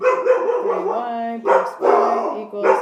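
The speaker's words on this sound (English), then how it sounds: "Sorry about the barking." A person talks while dogs bark and yip in the background, several sharp barks breaking through the speech.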